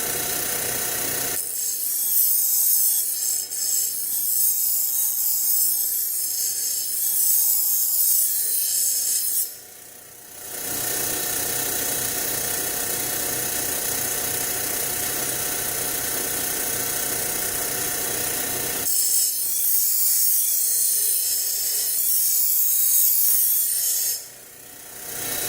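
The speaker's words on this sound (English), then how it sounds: "I'm going to try to grind that out." A bent kitchen knife's blade is ground down at a nicked spot with a power grinder, a loud continuous rasping whine that runs for long stretches, briefly stops, then starts again.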